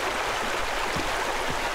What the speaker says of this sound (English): Look at that water go. That water's really loud.